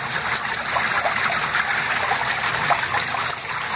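A washing machine tub sloshes water and clothes around in a steady, loud, continuous churning wash with no talk over it.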